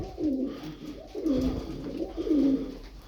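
Pigeons coo in a loft holding about ten birds, three soft, rolling coos repeating at a steady pace, close and fairly quiet with no talk over them.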